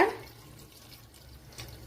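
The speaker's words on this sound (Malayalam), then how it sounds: "വെള്ളം ഒഴിച്ചു കൊടുക്കുക." Water is poured into a pot of pineapple pachadi being cooked with jaggery, giving a faint, brief splash and trickle close by, quiet and soft throughout.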